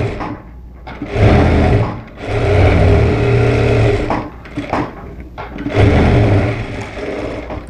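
A sewing machine runs stitch lines around the puff sleeve of a blouse, loud and close, in three sustained whirring bursts separated by short pauses and fabric handling.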